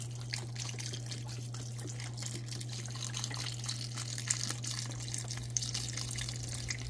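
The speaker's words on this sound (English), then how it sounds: "then we're going to add a whole box of our chicken broth here" Chicken broth from a 32-ounce box is poured into a soup pot, giving a soft, steady trickling and splashing of liquid, fairly faint and close, with no talk.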